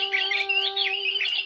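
A bird gives one long, loud, warbling squawk that lasts about a second and a half, bright and near, with no talk over it.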